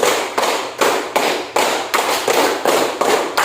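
Two rounds of five counted unison claps from a class of children ring out as about nine evenly timed, sharp bursts of group clapping, close and steady, with no voices.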